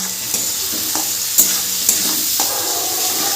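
Potatoes and onions sizzle in a pan with salt and turmeric while a spatula stirs them, a steady frying hiss broken by several sharp scrapes and clinks of the utensil against the pan.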